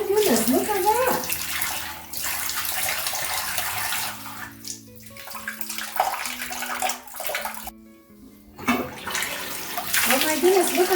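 Water runs and splashes into a bathtub as Pine-Sol and vinegar cleaner is rinsed off, a loud continuous rush that pauses briefly a couple of times, with faint voices now and then.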